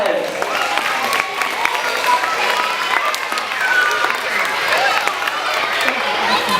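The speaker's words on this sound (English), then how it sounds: "give them a round of applause" School assembly audience of children clapping and cheering, a loud, continuous crowd roar with scattered shouts and claps throughout.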